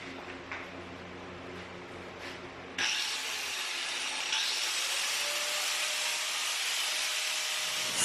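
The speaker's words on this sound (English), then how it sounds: "I did cut at least one of these sheets using the Dremel" A Dremel rotary tool cuts into a metal sheet from a 55-gallon drum, starting abruptly as a bright, continuous high-pitched grinding hiss that runs steadily for several seconds after a quiet motor hum.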